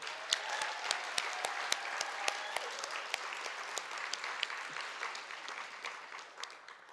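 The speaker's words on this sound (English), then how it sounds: "Can I get another round of applause for Kate?" An audience at an applied art and design award ceremony gives a round of applause, sharp individual claps standing out over a continuous wash of clapping that fades slightly toward the end.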